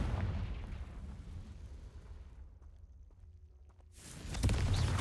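A Confringo fire spell blasting in Hogwarts Legacy, a loud booming burst that dies into a quiet tail before a second heavy explosion hits near the end.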